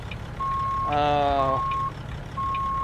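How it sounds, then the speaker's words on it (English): Truck backup beeper in American Truck Simulator, a steady repeating electronic tone over a low engine idle, briefly overlapped by a horn-like blast, with speech present. "I am ripping out that backup beeper"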